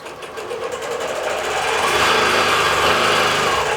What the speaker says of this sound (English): Now it's going to stitch across the quilt